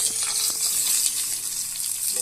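Tilapia fish fries in hot oil with a loud, dense, continuous sizzle and crackle, close up, with a few soft utensil scrapes and no voices.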